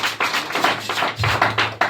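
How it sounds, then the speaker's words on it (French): Church congregation at an evangelical service clapping in rhythm, a run of sharp, fairly close handclaps in quick bursts with short gaps, no voices clear over them. "Acclamez pour la gloire de Dieu."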